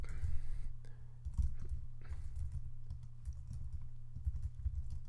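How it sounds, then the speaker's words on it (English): Rapid, uneven clatter of a computer keyboard typed at close range, bursts of key clicks with short pauses, during Java coding work, with no speech. "That was some horrendous typing right there"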